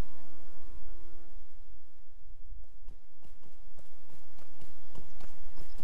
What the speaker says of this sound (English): This is not a fast ride, but it is a cheap ride, just a regular horse ride back over here to Kellendem